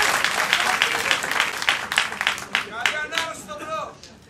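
A wrestling crowd at a Greek ZMAK show claps steadily, the applause swelling then thinning as a voice speaks over it toward the end.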